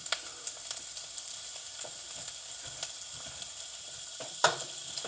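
Blue oyster mushrooms sizzle steadily in a pan over medium to medium-high heat, a continuous hiss with small crackles and pops, fairly quiet and without talk.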